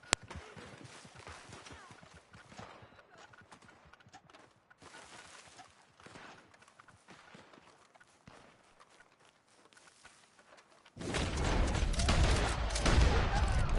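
Video game gunfire, with a sudden burst of loud, dense shots near the end following a stretch of quieter clattering steps and movement.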